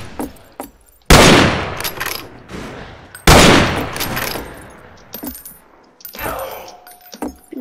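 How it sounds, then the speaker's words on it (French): A pump-action shotgun fires twice in a Wild West video game, two loud, close blasts a couple of seconds apart, each with a long decaying tail, followed by quieter in-game clatter and movement. "le fusil à pompe"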